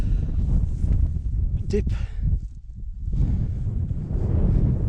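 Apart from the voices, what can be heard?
wind on an exposed hill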